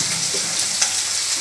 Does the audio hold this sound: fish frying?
yes